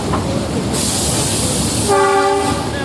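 The Matheran toy train rumbles steadily along with a loud hissing rush, then a sustained multi-tone horn blares near the end.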